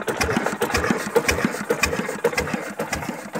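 An old stationary engine fitted with a hand crank runs alone, its combustion knocks in the cylinder head thumping in a steady, slightly uneven rhythm at close range.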